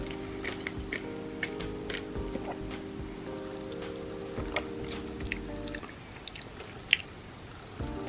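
Close chewing and biting while tasting vegan food, soft moist mouth sounds repeating steadily, with no talking.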